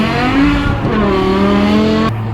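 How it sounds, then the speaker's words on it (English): A BMW M6 with a V10 engine and F1-style exhaust revs close by, producing a loud, high-pitched wail with shifting tones that holds steady and then drops abruptly. "My V10 BMW M6 is about to sound insane."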